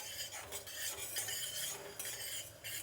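Cumin, fenugreek and mustard seeds dropped into hot oil for sambar tempering, giving a soft steady sizzle with light crackling and a few utensil scrapes, faint and without talk.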